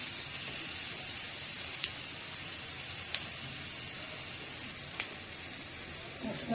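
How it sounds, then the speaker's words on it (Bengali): Fish frying in hot oil for a fish bhuna in a village kitchen: a steady, close sizzling hiss throughout, broken by a few sharp pops and crackles. "মাছ ভেজে দিচ্ছি"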